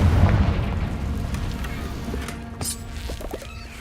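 A Confringo blasting spell from Hogwarts Legacy erupts with a loud, deep boom that rolls off into a fading rumble, with small crackles and pops scattered through the decay.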